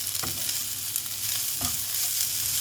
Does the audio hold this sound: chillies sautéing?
yes